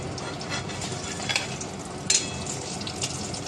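Cutlets wrapped in bottle gourd leaves fry over low to medium flame, a steady close sizzle with a couple of brief spatula scrapes and pops, no voices.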